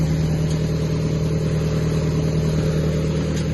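A homemade grain winnowing fan machine fitted with an engine runs steadily and close by, a continuous low mechanical drone with a constant hum and faint rattle, no talk.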